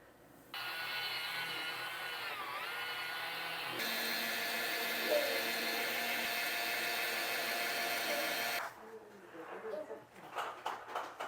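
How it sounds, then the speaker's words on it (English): A HOTO cordless spin scrubber, a handheld wand with a spinning brush, whirs steadily against a greasy kitchen stove treated with baking soda and vinegar. The motor pitch shifts midway, then cuts off, leaving scattered scrubbing clatter. "The spinning brush really helps break up the grease and makes cleaning less annoying overall"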